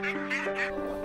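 Free-range ducks at an organic nursery in Barnham, West Sussex, give three quick, close nasal quacks in a rapid series, loud and clear with no talking.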